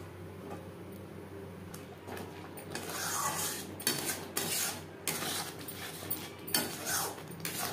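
A spice masala with peanuts is stirred in a pan over a medium flame, producing quiet, irregular scraping and clinking strokes of a spoon against metal, close and unaccompanied by talk.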